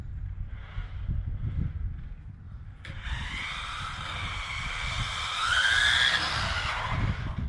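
A 1/16 scale Pinecone Models SG 1606 Pro or SG 1604 RC rally car runs flat out on a low hum, then breaks into a sustained high screeching skid as it brakes hard, loud and nearby.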